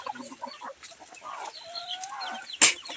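Native Parawakan chickens on a farm cluck in a steady chorus of close, overlapping calls, with one sharp, loud squawk near the end.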